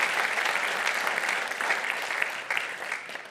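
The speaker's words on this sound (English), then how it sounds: "let's give a round of applause for our excellent staff" An audience at a school signing ceremony applauds the staff in a steady, dense round of clapping that holds at full strength throughout, with no one speaking.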